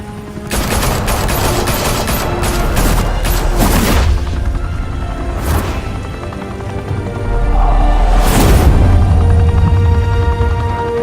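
Gunfire erupts in Batman: The Telltale Series as a crew opens fire in a mafia high-rise club: dense, loud bursts of shots and booms roll continuously, swelling again into a heavy volley near the end.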